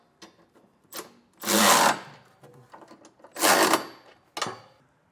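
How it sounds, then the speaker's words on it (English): A 3/4 inch socket ratchets trailer hitch nuts snug while a Curt receiver hitch goes onto a 2021 Ford Escape: two longer bursts of close mechanical whirring and clicking, with scattered short scrapes and ticks between them. "Once you have all of the nuts started, we're going to snug them down using a 3/4 inch socket."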